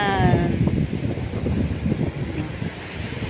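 Strong wind buffets the microphone outdoors in a continuous rumbling roar, loud and close, with faint voices underneath.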